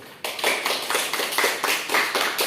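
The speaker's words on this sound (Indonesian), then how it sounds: "Tepuk tangan dulu untuk kelompok 1." A classroom group gives applause for a student group after a presentation, a rhythmic run of hand claps that starts abruptly and continues in close, regular beats.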